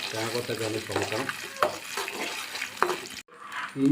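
Coconut pieces and fennel seeds frying in coconut oil for a beef bone curry, sizzling under a stirring spoon scraping the pan, with clinks, mixed with speech.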